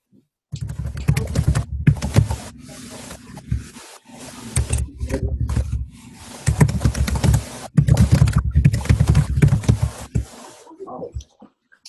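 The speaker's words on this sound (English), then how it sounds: "Someone is typing." Someone types on a computer keyboard at a meeting, with close, loud bursts of key clatter broken by short pauses and no speech.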